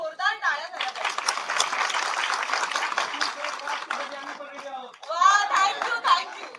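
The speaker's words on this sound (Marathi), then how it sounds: "तुमच्यासाठी जोरदार टाळ्या झाल्या पाहिजे" An audience at the Naach Ga Ghuma film premiere breaks into applause and chatter, a sustained wash of clapping with voices heard at the beginning and again near the end.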